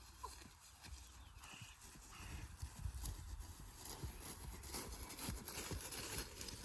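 Rhythmic horse hoofbeats at a steady trotting pace outdoors during groundwork, moderately loud, with some snorting and outdoor background noise.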